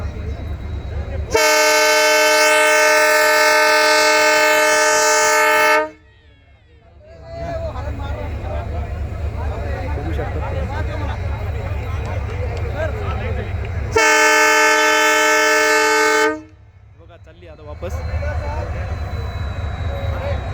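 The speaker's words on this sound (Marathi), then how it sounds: "रेल्वे टेस्टिंगसाठी आलेली होती बघा ही" A test train departing Rajuri railway station blares its horn in two long, loud blasts over a constant low engine rumble, with a quieter stretch of rumbling between them.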